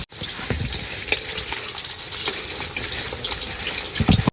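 Potatoes frying in oil in a kitchen pan, a constant bubbling sizzle with scattered pops and a louder stirring or splashing burst near the end, no voices.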